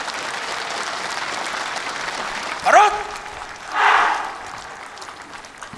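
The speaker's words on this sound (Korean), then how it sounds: "국민 여러분 뜨거운 박수를 보내주시기 바랍니다" Audience applause at the 65th Armed Forces Day ceremony in South Korea, a steady wash of crowd clapping through the whole stretch, with two short bursts of voice rising above it.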